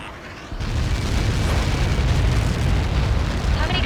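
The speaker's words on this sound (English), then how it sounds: "How many got caught in that explosion?" An explosion in the video game Ace Combat 7 lands as a loud, sustained roaring blast that rises suddenly and rumbles on without fading.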